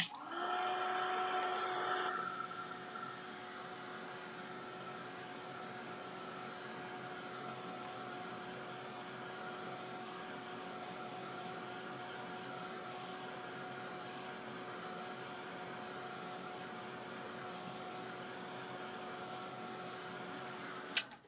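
A hair dryer or similar blower dries paint on a craft door hanger, making a steady, close whooshing drone that runs almost the whole length with a faint tonal whine, a little louder at the start.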